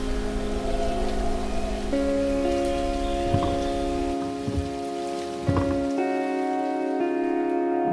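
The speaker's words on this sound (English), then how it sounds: "There was a slight drizzle, super foggy, you couldn't really see anything" Light drizzle falls at a plantation, a soft continuous patter under steady tonal background hum, with a few brief knocks and a quieter stretch near the end.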